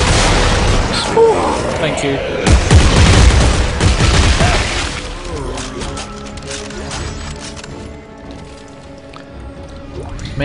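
Automatic weapon fire in Dead Space 3 co-op play comes as loud, dense bursts and booms with squishy impacts. Players talk over it, and the shooting thins out toward the end.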